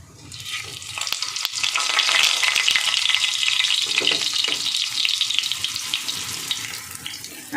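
Egg paratha frying in hot oil, a steady bright sizzle that swells after the first second and holds loud and close with small crackles and scraping, no voices.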